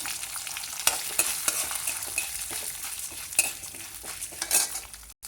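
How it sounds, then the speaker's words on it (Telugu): Urad dal and chana dal fry in a pan, a continuous close sizzle with occasional spoon stirs and scrapes against the metal, no voices. "మినప్పప్పు మందం కాబట్టి ముందుగా వేసుకోవాలి మినపగుళ్ళు తొందరగా వేగిపోతాయిలేండి"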